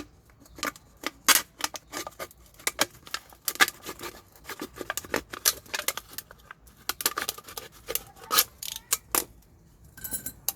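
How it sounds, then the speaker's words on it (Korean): Scissors snip through a thin aluminum drink can being cut in half to make a planter, giving a run of sharp, metallic crunching clicks in irregular bursts, close and fairly loud with no talking. "가위로 잘라주세요"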